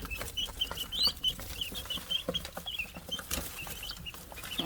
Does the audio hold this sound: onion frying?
no